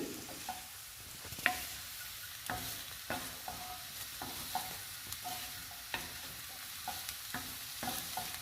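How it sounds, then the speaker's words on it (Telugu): Lentil powder frying in a carrot and capsicum curry with ginger and garlic, heard as a soft, steady sizzle broken by frequent light clicks and scrapes of a spoon stirring the pan, with no voices. "ఈ పప్పుల పొడిని కూడా 2 నిమిషాలు వేయించుకోవాలి"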